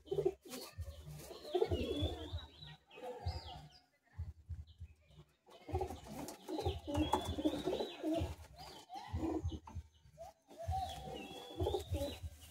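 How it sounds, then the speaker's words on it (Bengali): Madrasi pigeons at a sale coo in steady low rolling bursts, close and moderately loud, with short pauses and faint higher chirps above. "দেখুন ভালো ভালো পায়রা আছে।"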